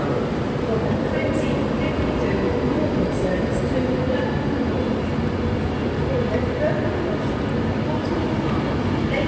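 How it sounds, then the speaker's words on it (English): A Pendolino train departs the platform at Preston station, a continuous close rolling rumble with rail noise and faint squeals, steady in loudness throughout, with voices murmuring underneath. "Pendolino on platform 3 at Preston is now departing."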